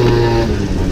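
A motorcycle engine held on the brake while the rider feeds throttle before a wheelie, a loud, steady, close droning rev with harmonic tones throughout the brief moment, no voices.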